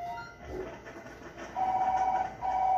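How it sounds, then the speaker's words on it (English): An electronic telephone ring repeats in steady tones in the Job Simulator virtual reality office game, sounding loud and close over a quiet game background. "I got a phone call."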